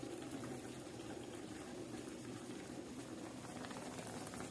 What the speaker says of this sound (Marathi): आता बघा ह्या भाजीमध्ये कशी भाजी उकळत आहे